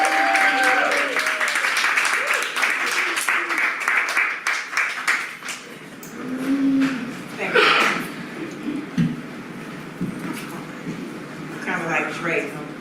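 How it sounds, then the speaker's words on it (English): Applause from an audience at a live event, a spread of clapping through the opening seconds that thins out while voices and speech take over, with scattered claps continuing under the talk. "Give her one more round of applause."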